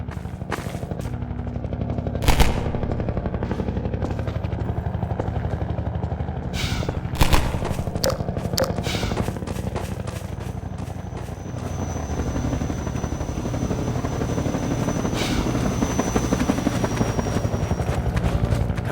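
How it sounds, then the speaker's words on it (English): Combine Attack Helicopter in Half-Life 2, a low thudding rotor drone running throughout, broken by sharp loud bursts of gunfire and impacts, heavy and close. "here's where we fully introduce the main boss of the Canals chapter, the Combine Attack Helicopter"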